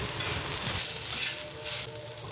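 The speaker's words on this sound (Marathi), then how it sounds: "वाटून घेतलेला ठेचा किंवा खरडा तव्यामध्ये घालून गॅसची फ्लेम मंद करून तो देखील आपल्याला छान असा परतून घ्यायचा आहे" Green chilli thecha (crushed chilli paste) sautéing on a hot tava over a low flame gives a steady, close sizzle with faint stirring, with no voices.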